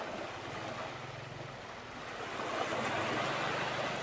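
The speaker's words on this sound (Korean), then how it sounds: "파도 소리를 들으세요" Ocean waves at night on Koh Bulon, Thailand, a steady broadband wash of surf with a low droning hum beneath, swelling slightly louder toward the end, no voices.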